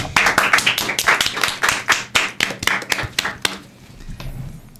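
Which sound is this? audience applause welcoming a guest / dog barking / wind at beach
audience applause welcoming a guest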